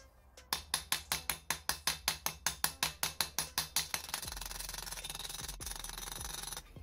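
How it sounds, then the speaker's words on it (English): Close, sharp metallic hammer strikes drive a fitting onto a metal pipe for a prop build, about fifteen rapid, evenly spaced blows, then a steady low hum with a couple of faint knocks. "I can switch out to a heavy hammer and go to town on it a bit more."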